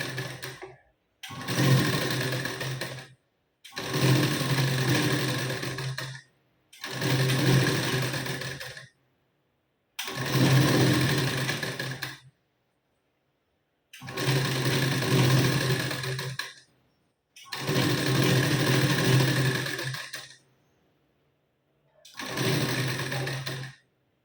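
A sewing machine stitches a strip onto a blouse in eight long runs of steady whirring, each a few seconds long and separated by brief silent pauses, close and alone.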